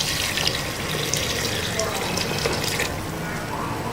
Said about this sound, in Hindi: फिर हम इसके अंदर पानी डाल देंगे।